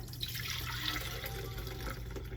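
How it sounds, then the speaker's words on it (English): Horchata poured into a container, a steady faint liquid stream running alone without pause or talk. "I'm gonna go ahead and pour it"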